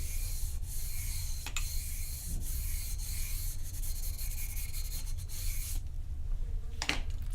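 A block of P. Rostro cello rosin rubbed back and forth along a bow, giving close, steady scratchy rasping strokes with a few sharp clicks, alone without talk.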